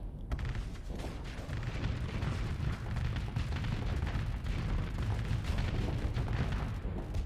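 A big siege gun firing in the space combat game Starsector, heard as a dense, continuous rumble of heavy booms and blasts that stays loud and even with no break.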